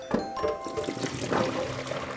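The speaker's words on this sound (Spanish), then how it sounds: "Y tiramos el agua." Water from boiled beef tripe for callos a la madrileña pours through a colander in a steady gushing splash, close and continuous.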